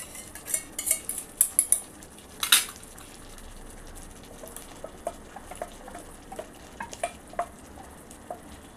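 Curd poured over boiled pumpkin in a pan for a doi kumro curry, with a few close metal spoon clinks and scrapes against the pan, then softer scattered taps over a quiet background.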